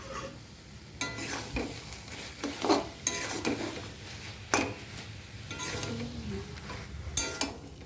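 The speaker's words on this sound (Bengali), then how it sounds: "ঢাকা খুলে এইভাবে মাঝে মাঝে নেড়ে নিতে হবে।" Cooked greens stirred in an uncovered pan, a utensil scraping and tapping the metal in scattered strokes over a faint steady sizzle, fairly quiet and close, with no voices.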